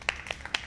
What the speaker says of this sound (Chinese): 家己鼓掌。